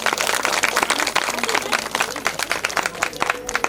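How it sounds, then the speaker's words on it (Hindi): Audience clapping at a Krishna Janmashtami festival gathering, a steady patter of applause with voices talking over it. "जोरदार तालियां प्लीज।"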